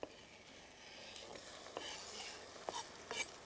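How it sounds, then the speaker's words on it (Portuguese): Chopped tomato sautéing with onion in a pan, a quiet soft sizzle broken by a few sharp scrapes and taps of a spoon, faint and close with no voices. "quando a cebola começar a lourar, não deixem lourar muito, juntam o tomate"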